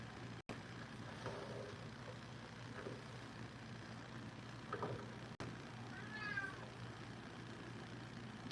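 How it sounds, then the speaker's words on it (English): A 21-year-old cat wails at dinner time indoors, a few faint, distant meows rising over a steady low hum, with soft clicks and quiet stretches between the cries. "So you're gonna start to hear cat wailing."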